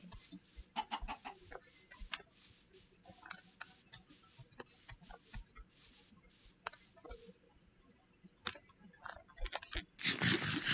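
Chickens in a video game, a scattered run of soft clucks and clicks fairly close by over quiet ambience, ending in a louder rustling burst, with no talk.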